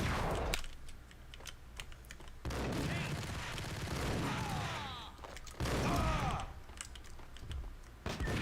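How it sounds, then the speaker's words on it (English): Ingram submachine gun fire in Max Payne: rapid rattling bursts of clattering shots, broken by brief pauses, with a voice talking over parts of the firing. "May as well use the Ingrams."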